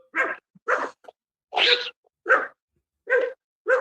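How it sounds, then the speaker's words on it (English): A dog lets out six short, sharp barks at an even, spaced rhythm, loud and close, with near silence between each one. "it's a doggy"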